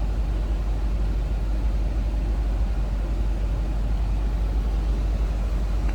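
A steady, deep idle from a stock 1975 Chevrolet Corvette V8, continuous, low and heavy, with no talking over it.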